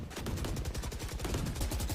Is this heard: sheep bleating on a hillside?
no